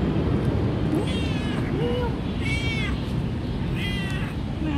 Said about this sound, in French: Ça, c'est mon copain, le chat.